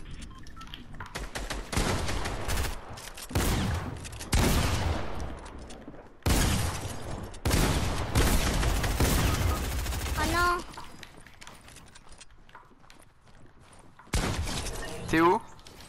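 Dense bursts of gunfire from a shooting video game, rapid volleys that start and stop in long loud stretches, with a few whistling, ringing effects between bursts.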